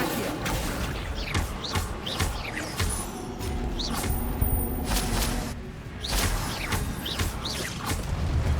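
Incendio and Accio spells cast in a video game make a run of sharp whooshing magical bursts, each with a quick swish and crackling impact, repeating steadily and fairly close across eight seconds with no talk.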